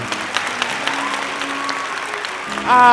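A tavern crowd applauding a bard, steady clapping and murmuring throughout that swells louder toward the end, heard at moderate distance.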